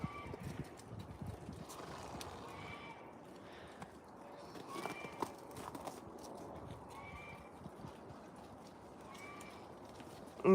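Hooves of a heavy, chunky horse clip-clop at a ranch, a steady run of soft, close thuds with occasional whinnies and faint bird calls over a low outdoor rumble.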